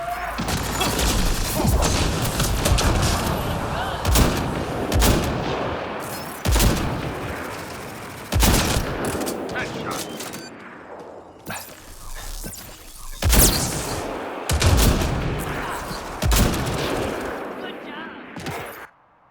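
Gunfire from a Mass Effect Andromeda firefight: rapid automatic bursts and sharp shots with cracking impacts, loud and dense throughout, interspersed with shouted voices.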